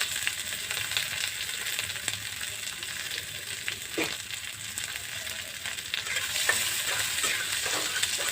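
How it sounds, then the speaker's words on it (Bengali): Garlic, onion and green chillies frying in oil in a wok give a steady, close sizzle with occasional stirring scrapes, running continuously with no talk. "সেগুলো একসঙ্গে করে আমি ভেজে নেব।"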